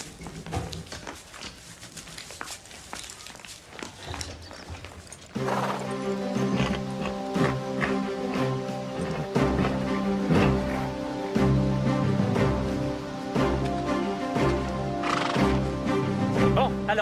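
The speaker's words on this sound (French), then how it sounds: "Il faut qu'on selle nos chevaux." Horses at a riding stable whinny while hooves clip-clop, mixed with other noise at first and then partly masked by steady music for most of the stretch.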